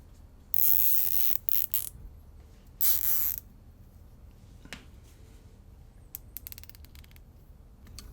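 Zip tie being tightened around an expandable garden hose: several short bursts of ratcheting, zipping clicks up close, separated by quiet pauses, followed by a few faint scattered clicks and handling noises.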